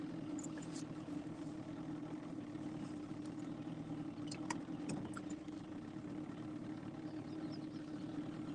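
A smoky two-stroke boat engine idles steadily on a river channel, a low, even drone at moderate distance with occasional faint clicks and knocks over the top.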